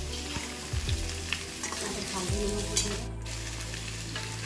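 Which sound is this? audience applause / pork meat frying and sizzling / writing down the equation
pork meat frying and sizzling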